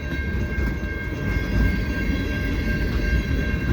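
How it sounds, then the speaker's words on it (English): A long CN freight train rolls past in a snowstorm, its cars rumbling steadily with a continuous low clatter and a faint high squeal, moderately near and uninterrupted. "And it's the end of the train right there."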